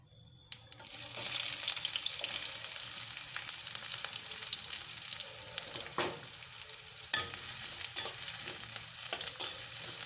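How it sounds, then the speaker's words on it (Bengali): Chopped onions and green chillies fry in hot oil with cumin seeds in a pan, giving a steady, close sizzle broken by scraping stirs of a spatula. No voices are heard. "পেঁয়াজগুলো ভালো করে নাড়িয়ে চাড়িয়ে বাদামি কালার করে ভেজে নিতে হবে"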